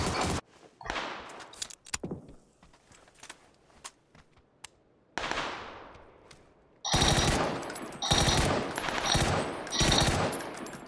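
Bursts of automatic gunfire in PUBG, sparse sharp shots early on, then dense, loud rapid volleys filling the last few seconds.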